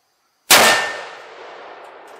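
A rifle bullet from a Remington 700 striking a steel target: one sharp metallic clang with a bright ringing tail that slowly fades over about a second and a half, heard alone.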